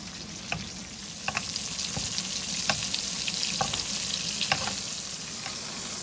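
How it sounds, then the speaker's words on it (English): Butter is spooned over a steak in a hot pan, giving a steady close sizzle with light clinks and splashes of the spoon repeating every second or so. "now we're going to start basting the butter over the steak"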